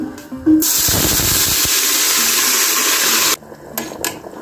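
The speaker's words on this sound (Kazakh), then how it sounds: "Майымыз қызғаннан кейін қызанағымызды саламыз." Sliced tomatoes drop into hot sunflower oil for Kazakh-style adjika, setting off a sudden loud, steady sizzling hiss that holds for about three seconds before cutting away to quieter kitchen sounds.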